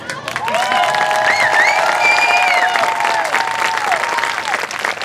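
A crowd applauds and cheers steadily for the Pride of Piqua Marching Band at its premiere, loud dense clapping with whistles and shouts riding over it throughout.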